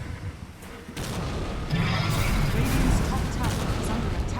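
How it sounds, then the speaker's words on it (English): Phoenix explosions in a Dota 2 grand final match, a dense rumble of booming blasts and crackling impacts building through the middle, under a caster's fast excited commentary. "Extra diabolic Phoenix explosions."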